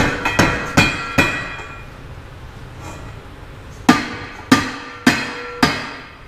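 A hammer taps on an aluminum part of a Speedaire air compressor to loosen it, giving sharp metallic strikes in two groups: four quick taps, a pause, then four more evenly spaced blows, loud and close.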